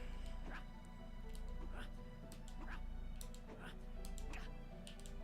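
A dog barks in the video game Trials of Mana, several small yips and whimpers repeating at a steady pace over game music, near and moderately loud.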